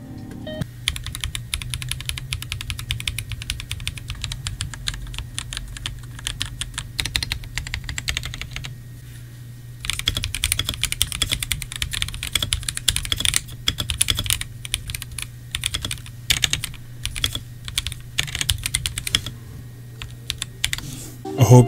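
Typing on a budget Akko 5075 mechanical keyboard with stock switches produces a dense, fast stream of soft, close keystrokes, with a brief lull midway before the tapping resumes.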